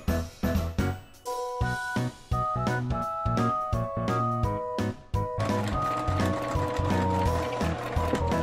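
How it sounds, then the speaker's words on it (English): A sewing machine runs a straight stitch while piecing a quilt block, heard up close as a loud, rapid mechanical chatter in short bursts that stop and restart, then settle into a steadier run. "I'm just going to do a straight stitch"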